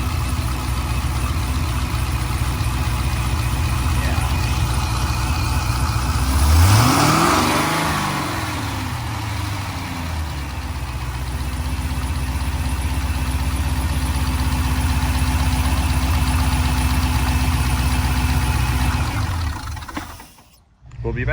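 A C6 Corvette V8 fitted with an aftermarket cam idles steadily with a lumpy, lopey rhythm for about twenty seconds, heard close and loud, with a brief rev partway through and someone talking over it.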